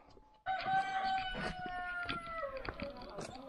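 A rooster crows in a village with stilted wooden houses in Guizhou, one long clear call rising after a brief quiet start, fairly close, with faint background clucks and movement.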